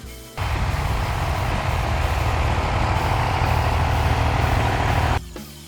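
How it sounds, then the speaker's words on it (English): A classic tractor engine starts abruptly and runs at a steady, loud, low rumble close by, then cuts off near the end, with no talk over it. "The sound of the engine roars in the morning mist."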